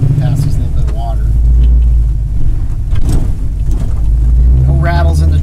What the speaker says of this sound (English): Run it up through the gears here for you.